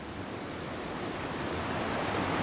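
Rushing creek water, swollen enough to push out logs, cedars and Douglas fir, gives a loud, steady broadband roar that builds slightly and runs unbroken, with no voices.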